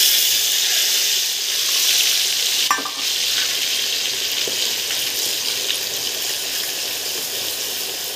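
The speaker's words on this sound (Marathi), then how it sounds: "तेल तापलेलं आहे, आपण मिक्सरमधून तो मसाला काढला तो टाकूया" Ground masala paste sizzling steadily in hot oil in a pan for a gravy, a continuous bright frying hiss with a brief stir or clatter near the start, close and alone.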